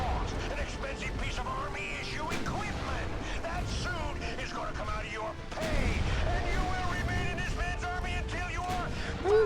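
11-inch naval guns in Ultimate Admiral: Dreadnoughts fire and shells land, producing low rumbling booms layered under constant game music and ambient noise, with a swell of heavier fire in the later part.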